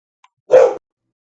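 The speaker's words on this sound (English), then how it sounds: "Oh, damn dog." A single dog bark close by, loud and abrupt, lasting about a quarter second, with otherwise quiet surroundings.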